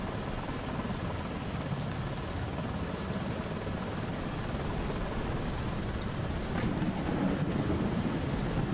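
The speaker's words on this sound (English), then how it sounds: "Pilot, there's nowhere to put the helicopter down." A helicopter hovers over a ship in a storm in the indie horror video game Lazaret, a continuous dense rotor rumble mixed with wind and weather noise, steady and moderately loud.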